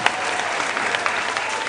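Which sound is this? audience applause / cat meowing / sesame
audience applause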